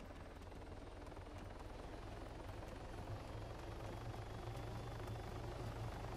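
A helicopter in the Altis Life game mode drones steadily for the whole stretch, its low rotor thrum and engine hum continuous and fairly quiet, with no talk over it.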